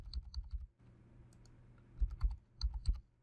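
Credentials being typed on a computer keyboard: quick clusters of close, crisp key clicks in two bursts separated by a brief quiet hum.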